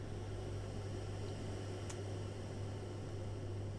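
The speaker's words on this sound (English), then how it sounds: "filtered white noise gives you quite a useful synthesis sort of building block." Filtered white noise synthesized in Pure Data forms a steady, unbroken hiss with a windswept beach quality, holding at an even, moderate level throughout with a low hum underneath.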